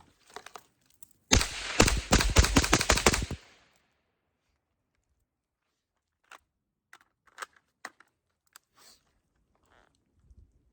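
Steyr AUG rifle with a new trigger firing steel-case 55-grain ammunition outdoors in snow: a loud, rapid string of shots lasting about two seconds, followed by scattered faint clicks and knocks.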